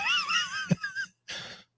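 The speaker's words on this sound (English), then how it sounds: "My dog is snoring." A sleeping dog snores indoors, two close, wheezy, whistling breaths separated by a brief silence, with no one talking.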